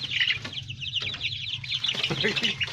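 A chicken clucks and squawks close by in short bursts, with faint background noise between calls.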